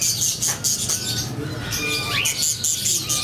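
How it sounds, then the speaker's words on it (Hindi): Budgies, cockatiels, finches and Java sparrows in an aviary breeding setup give off a lively mix of squawks, chirps and bright calls close by, while someone talks over them. "यहाँ पे बजरी, कॉकटेल और फिंचीज और जावा के कम मतलब के जोड़े रखे हुए हैं"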